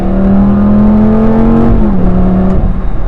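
A 2008 Lamborghini Gallardo engine pulls hard, its loud rising drone heard from inside. It drops in pitch at a gear change and then climbs again, with no talk over it.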